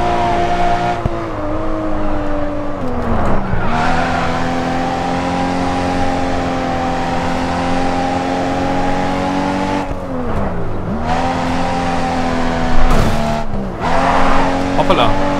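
Racing car engine from the Grid 2 video game drones steadily with shifting revs and gear changes, punctuated by brief tire squeals around corners, loud and continuous under someone speaking German.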